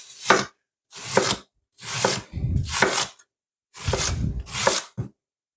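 Knife chopping onion on a cutting board for a roasted beetroot and sweet potato salad: six separate bursts of crisp, close chopping strokes with short pauses between, no voices.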